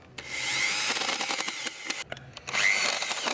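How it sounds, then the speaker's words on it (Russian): A power screwdriver whirs as it drives a self-tapping screw through a paving tile into a wall plug, a close, rising whine with a brief stop and restart, ending in a final tightening burst. "И дальше прикручиваю саморез."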